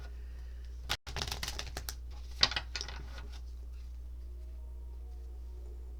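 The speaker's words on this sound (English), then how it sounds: "You all saw me shuffle." A deck of tarot cards being shuffled by hand, a quick burst of riffling and card clicks followed by a few softer taps, close and fairly quiet against low steady background hum.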